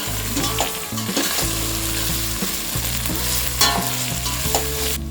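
Cubed potato and mixed vegetables sizzle and fry in a pot for a masala pulao, with a steady loud hiss and occasional stirring clatter throughout, no talking.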